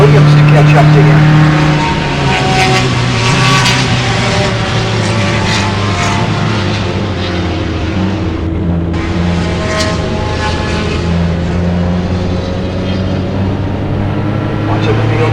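Single-seater race cars pour out of the kilo turn at Mid-Ohio during an autumn club race, a loud continuous engine roar with rising and falling pitch lines of several cars under a commentator's voice.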